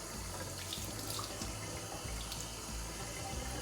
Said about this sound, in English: Now I'm gonna rinse off the excess.